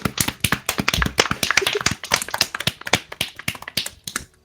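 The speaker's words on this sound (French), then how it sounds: "On peut l'applaudir." A group of people applauds in a roleplay gathering, with loud, uneven rhythmic hand claps close by, sharp individual smacks blending into a steady patter that thins out toward the end.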